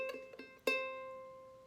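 Two soft plucked ukulele notes, then a brighter single string plucked and left ringing, slowly fading; quiet and close, no voices.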